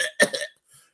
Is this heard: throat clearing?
yes